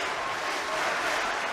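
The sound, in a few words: arena crowd applauding at a sabre fencing match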